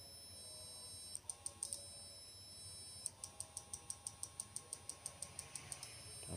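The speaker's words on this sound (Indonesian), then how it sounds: "dua buah relay ini mengeluarkan bunyi seperti itu" Faint, rapid mechanical clicking in regular bursts, a pair of relays in a flip-flop circuit ticking back and forth, with a brief pause between runs.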